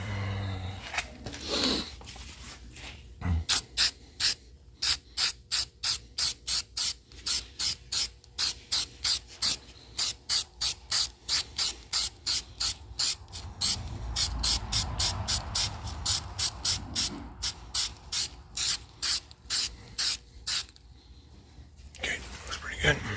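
Rust treatment sprays from a pump can onto a Jeep Cherokee XJ around the rocker panel area, dozens of short rhythmic hissing bursts in quick succession, close and clear, with brief low speech at the start.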